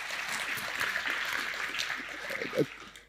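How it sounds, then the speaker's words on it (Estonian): An audience at an investment talk claps in a steady, moderately loud wash of applause that carries on for a few seconds before fading, with a couple of louder claps near the end. "Teeme aplausi."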